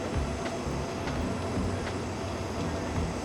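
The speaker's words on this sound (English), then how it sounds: "So this is the train that we're supposed to go on." Train at a Thai railway platform, a steady broadband rumble of the carriages with faint intermittent clanks, sustained and fairly close throughout.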